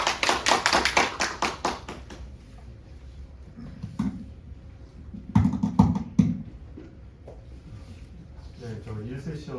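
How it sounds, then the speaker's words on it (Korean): An audience at the 2021 spring academic conference of the Korea Maritime Law Association claps. The applause is dense and lasts about two seconds, then fades into someone speaking, with a few scattered claps and taps later. "큰 박수 부탁드리겠습니다."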